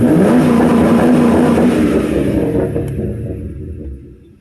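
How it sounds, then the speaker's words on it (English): A Lincoln Town Car engine with a cold air intake and throttle body spacer revs hard against the rev limiter, a loud, close, rough roar that fades as the revs fall away. "It's actually hitting the rev limiter faster now that I have it programmed in there."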